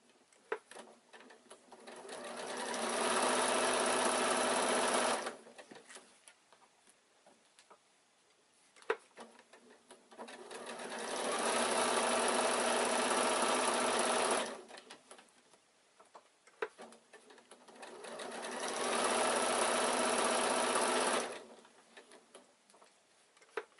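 A sewing machine stitches a quilted evening bag in three sustained runs of several seconds each, whirring close and steady, with quiet handling clicks and rustles in the gaps between runs.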